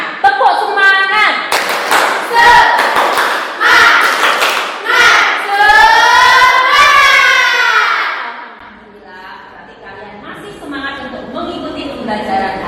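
A classroom of students performs a rhythmic spirit clap with chanting voices, loud and close, the claps and shouting running together before fading into quieter background chatter.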